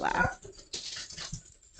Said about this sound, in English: So my dogs are going crazy because they love their grandma.